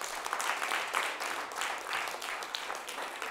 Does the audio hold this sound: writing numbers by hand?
no